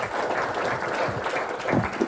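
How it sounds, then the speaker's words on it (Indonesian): An audience at a talk on ideology breaks into applause, a dense burst of clapping with a few voices mixed in, steady and close. "boleh tepuk tangan"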